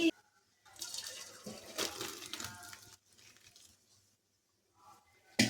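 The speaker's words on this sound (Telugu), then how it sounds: "వాటర్ని డ్రైన్ చేసేద్దాము." Boiled noodles drained of their cooking water, a splashing pour in two bursts of a few seconds each with quieter trickling between, fairly close and heard without talk.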